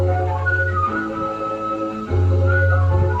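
A pressure cooker whistle hisses in steady, sustained bursts, a strong tonal shriek that briefly dips and then returns louder.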